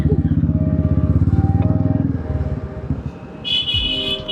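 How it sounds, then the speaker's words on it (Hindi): A motorcycle engine idles with a loud, rapid, throbbing put-put close by, then it cuts out into clattering, scattered pops, and a brief high tone follows near the end. "जब ये कई बार पटाखे बजाती है ना मोटरसाइकिल"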